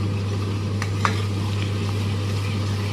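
Onions frying in a pan for chole masala, a soft continuous sizzle over a steady low hum with a single light clink of a utensil.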